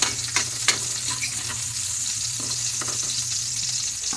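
Garlic and then onion sautéing in a hot pan for pork-lung bopis, a steady close sizzle with a few sharp crackles and stirring scrapes near the start.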